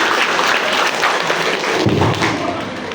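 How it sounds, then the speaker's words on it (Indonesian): An audience at an Indonesian school talk on bullying applauds a presenter. The clapping is a loud, dense, continuous wash with some low thumps mixed in. "Tepuk tangan dong untuk Pak Nova."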